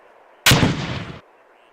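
A single loud grenade launcher practice round firing in a military video game, a sharp close blast with a short rumbling tail, standing alone over a faint background hum.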